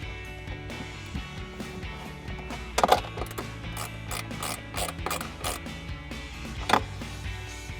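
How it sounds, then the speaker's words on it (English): A 10mm ratcheting wrench tightens a nut inside the air box of a GMC Sierra 1500 during a cold air intake install, giving rapid close clicking bursts with occasional louder knocks. "grab our 10mm ratcheting wrench and tighten that down"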